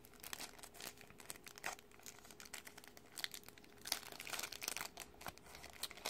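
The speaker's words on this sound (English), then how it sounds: "So it's wrapped in this little piece of plastic. So I'll open it for you guys." A Matek F405 STD flight controller is pulled from its small plastic wrapping, with continuous close crinkling and crackling of the thin plastic and a few sharper tearing rustles.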